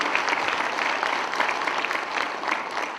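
A large conference audience at an opening plenary session claps in a sustained, even burst, dense and moderately loud from start to finish with no pauses.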